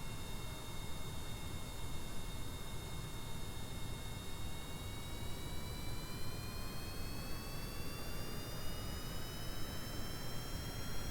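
Rocket engine firing in Kerbal Space Program, a steady roaring hiss with a faint whine that slowly rises in pitch, continuous and fairly quiet throughout.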